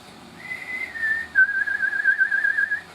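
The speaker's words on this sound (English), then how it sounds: "you can whistle a tune to yourself and it shows up" A single person whistles a short tune, clear and close, sliding between a few sustained notes and then wavering on a steady pitch, alone without talk.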